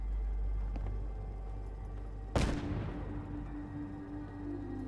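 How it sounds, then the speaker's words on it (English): A standard frag grenade goes off in Fallout 4: one sharp, loud blast that decays into a rumbling tail over a low background hum, with no voices. "Now this is a standard frag grenade."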